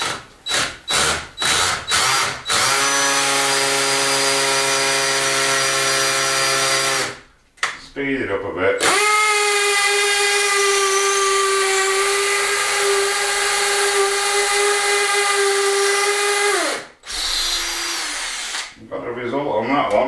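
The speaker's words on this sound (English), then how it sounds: "I'm going to try and drill it. It's potluck drilling these walls." A hammer drill bores into a sandstone or marble house wall during a renovation, whining in long steady runs after a few short bursts, loud and close, with brief pauses between runs and someone speaking briefly.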